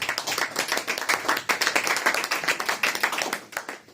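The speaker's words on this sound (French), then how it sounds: "Acclamez pour le Seigneur." A church congregation claps and cheers in praise during a French-language sermon, a dense, steady burst of many hands clapping with scattered shouts, sustained and close throughout.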